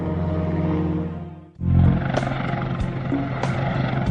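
Super Puma helicopter flying over the North Sea toward oil platforms, a loud steady engine and rotor roar that dips briefly, then returns with rhythmic thumping.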